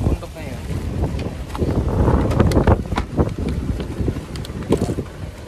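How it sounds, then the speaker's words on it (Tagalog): Strong gusting wind on a mountain buffets the microphone with rough, surging roars, loud and close throughout. "Lakas ang hangin dito sa bundok na yan."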